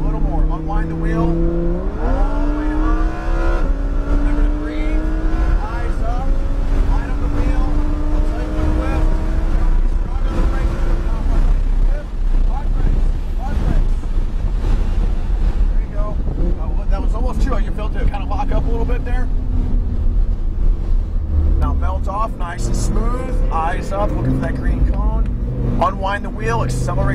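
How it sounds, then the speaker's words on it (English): A Lamborghini Huracan engine accelerating on a race track, rising harmonic tones climbing as throttle builds, with steady loud drivetrain roar throughout while an instructor talks over it. "Now start progressively adding throttle."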